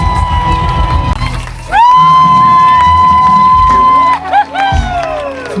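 A crowd cheers and shouts at a French-language event, with a loud sustained whistling or horn-like tone rising above the roar for a few seconds before the noisy crowd returns.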